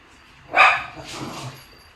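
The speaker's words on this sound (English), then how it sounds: "Sorry, my dog will be doing this throughout this whole stream." A pet dog lets out one sharp, close bark, then a softer, whining yip in a quiet room. No one speaks.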